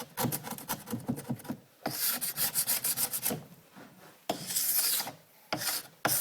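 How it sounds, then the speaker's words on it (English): A plastic scraper draws repeatedly along a waxed ski base, giving rhythmic rasping strokes in bursts separated by brief pauses, close and fairly loud with no talking. "Now we've completed the scraping part."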